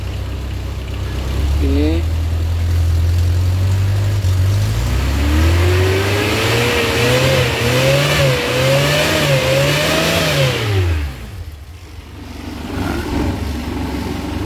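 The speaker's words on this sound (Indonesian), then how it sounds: "gas kecil dulu sedikit sambil kita rasakan getaran mesinnya" A Suzuki Carry 1000cc engine revving lightly in a series of short, rising throttle blips over a steady idle, close and fairly loud, settling back down near the end, with a voice speaking over it.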